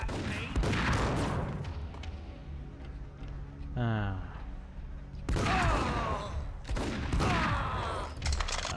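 Heavy shotgun blasts in the game Max Payne, loud booming reports scattered through the stretch, mixed with game effects and someone talking over parts of it.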